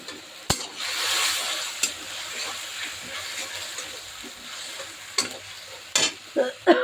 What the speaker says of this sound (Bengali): আর এই যে রুই মাছ দিয়ে বেগুন দিয়ে ভেজে ভুনা করব।